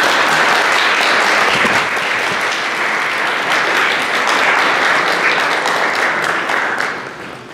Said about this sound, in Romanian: O aplaudăm pe Corina pentru această sală